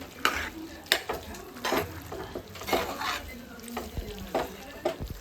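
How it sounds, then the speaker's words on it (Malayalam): Cooked pork fries with onion, ginger, curry leaves and salt in a frying pan, stirred with irregular scraping and clattering strokes over a low sizzle. "പോർക്ക് വെന്തത് അതിനകത്തോട്ട് ഇട്ട് കൊടുത്തിട്ടുണ്ട്. ഇതൊന്ന് മിക്സ് ചെയ്യാം."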